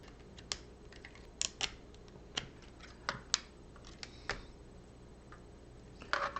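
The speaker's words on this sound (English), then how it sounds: "These two parts just snap together. Nice clicking sound." Sharp plastic clicks of LEGO Technic parts snapping together, one at a time at irregular intervals, close up over a quiet background.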